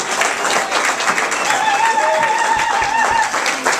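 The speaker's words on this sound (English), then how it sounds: "have a big round of applause for Pam" An audience applauds a woman called up to the front, steady dense clapping from many hands throughout, with a held tone and a few louder individual claps standing out near the end.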